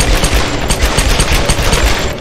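Rapid, dense gunfire from two guns in Tomb Raider rattles on without a break, loud and close, with no talk over it.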